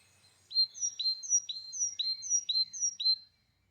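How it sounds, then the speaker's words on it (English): A great tit sings alone in a heritage garden, a clear, close series of about six bright two-note phrases repeated in steady rhythm over near silence. "More birdsong, this time a great tit."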